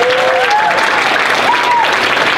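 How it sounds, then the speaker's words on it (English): Audience applause fills a pageant hall, a steady dense wash of clapping at close range with a few whoops and whistles rising over it. "can we get a round of applause, please?"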